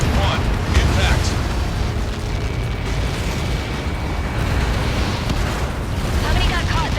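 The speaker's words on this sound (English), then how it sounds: "How many got caught in that explosion?" A Helios missile blast in the video game Ace Combat 7: Skies Unknown, a sustained loud rumbling roar that stays dense and heavy throughout, with radio voices talking over it.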